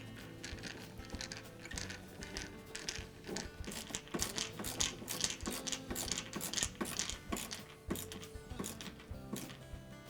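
A ratchet drives 1/4-inch hex head screws into the front access panel of a KitchenAid dishwasher, giving a steady run of quick metallic clicks and clacks with no pauses.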